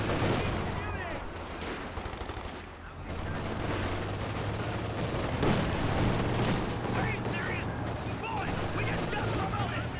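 Light machine gun fire in the Company of Heroes 2 strategy game, sustained bursts of rapid shots with battle noise filling the background, steady and fairly loud, with a commentator talking over it.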